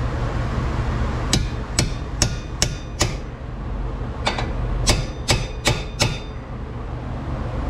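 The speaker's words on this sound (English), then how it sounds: "Now this is where our chisel and our hammer comes to play." Sharp metallic hammer blows on a chisel, a rapid run of five strikes then a pause and five more, ringing against steady background noise, while opening up the spindle area on a 1999 Subaru Forester during a CV axle replacement.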